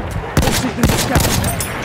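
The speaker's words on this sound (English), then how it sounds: "There, enemy machine gun." An enemy machine gun firing in Battlefield 1 during team deathmatch on Monte Grappa, a few loud sharp shots spaced out over under two seconds, with a voice talking alongside.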